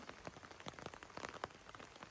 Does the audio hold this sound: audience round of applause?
no